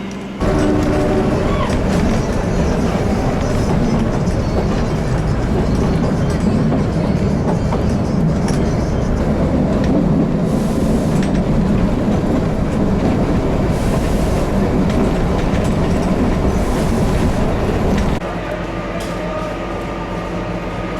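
A night train on a Himalayan railway rumbles loudly and steadily along the tracks, with a dense clatter of wheels and carriage noise that stays constant before dropping off suddenly near the end.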